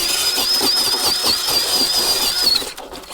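Axial RC crawler climbing a steep hill under throttle, a loud, close, sustained high-pitched motor whine with rattling texture that drops away near the end.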